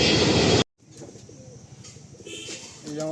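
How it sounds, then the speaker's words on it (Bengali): Pair of Fulshira pigeons in a loft, soft low cooing and faint chirps heard close after a brief loud burst of noise cuts off abruptly. "এই যে আমার এক জোড়া ফুলশিরা পায়রা দেখুন"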